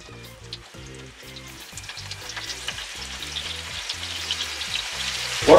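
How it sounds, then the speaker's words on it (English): Floured pieces of heart frying in a hot pan, a steady close sizzle with crackling spits that grows louder toward the end, no voices. "Now we take each floured part of the heart and heat it up from up and down side, but just a few seconds."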